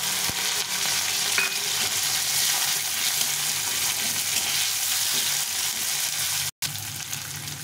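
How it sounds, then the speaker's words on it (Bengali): Onions frying in hot oil with black cumin and green chilli, a loud, dense, continuous sizzle close up with faint stirring beneath, broken by one brief gap near the end. "পেঁয়াজটা একটু ভাজা ভাজা হয়ে গেছে"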